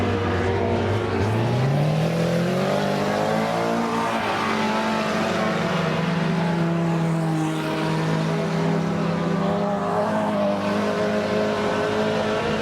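A race car's engine drones loud and steady at high revs while it pulls clear of the third-place car, the pitch swooping upward early on and then holding a sustained, unbroken roar.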